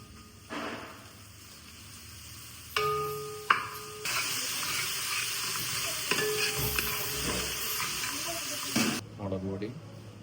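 Green chillies and tomatoes stirred and fried in a pan in a Wayanad-style restaurant kitchen, with steady close sizzling, spoon scrapes and clinks, and a brief splash of running water near the end.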